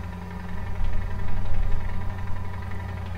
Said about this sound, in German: Da hat ein Loch im Auspuff, glaube ich.